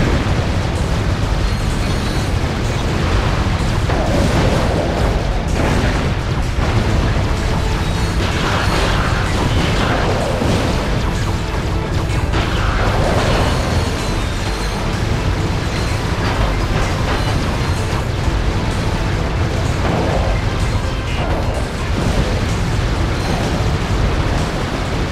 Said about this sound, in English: Ratchet, you will have to use the Landstalker's mortars to destroy those quasar orbs.